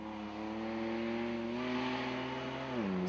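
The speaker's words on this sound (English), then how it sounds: "Another Toyota Land Cruiser." Supercharged V6 engine of a Toyota Land Cruiser at a 4x4 winch truck challenge stage, a steady tonal engine drone at moderate distance that dips in pitch near the end.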